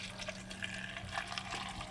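Distilled water mixed with photo flow solution pours into a developing tank for film processing, a steady close liquid splash and trickle running alone throughout.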